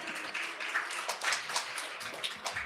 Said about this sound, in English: Ladies and gentlemen, another round of applause for our distinguished panel.